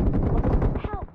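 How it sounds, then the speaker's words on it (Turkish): A grenade explodes on a staircase in a video game: a brief, loud, dense burst with crackling, gunfire-like impacts. A voice briefly cuts in near the end. "Abi merdivene bir tane bomba attım"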